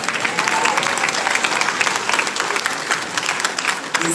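An audience at a high school graduation ceremony applauds continuously, a thick, even patter of many hands clapping close by for the whole stretch.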